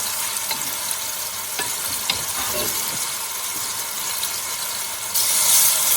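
Chicken jalfrezi pieces sizzle and fry steadily as they are added a little at a time to a hot pot, with a constant bright crackle and occasional stirring clicks, growing louder near the end.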